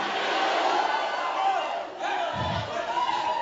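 A church congregation shouts back to a preacher in a loud, sustained roar of many voices, with a brief dip and a surge of deeper shouting near the end.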